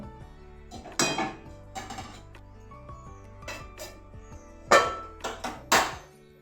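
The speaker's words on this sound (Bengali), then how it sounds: "এবারে আবারও ঢাকা দিয়ে দেবো" A metal lid clanks down onto a pot of jhinge aloo posto with a few sharp clinks and knocks, set over a steady low hum from the kitchen.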